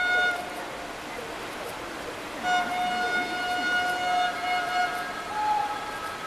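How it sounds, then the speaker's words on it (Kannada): A train pulls into a busy Mumbai railway station, sustained tonal horn or siren notes ringing over rumbling platform noise, with a faint murmur of voices in the background. "ಯಾವುದೊಂದು ಟ್ರೈನು ಬಂತಲ್ಲಿ"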